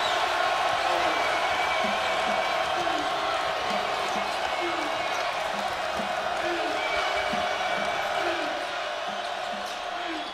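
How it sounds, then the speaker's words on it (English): The crowd in a college basketball arena at a Mississippi State vs South Carolina NCAA game roars steadily throughout, with a ball bouncing on the court and a commentator's voice over the noise. "And listen to this crowd."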